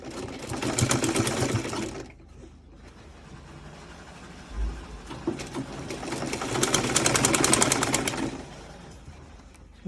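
A sewing machine stitches bias binding onto a garment neckline in two bursts of steady whirring separated by a pause filled with quiet handling noise.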